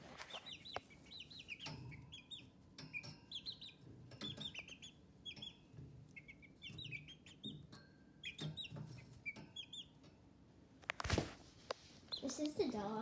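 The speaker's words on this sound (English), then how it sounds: "They're chickies. That's what was in the background the whole time." Farm chickens clucking and squawking in short bursts nearby, steady and fairly soft, with a person talking now and then.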